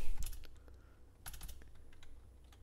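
Computer keyboard typing while coding in Roblox Studio, a quick cluster of close key clicks, a pause, then another burst of taps and a few scattered strokes, with no talk.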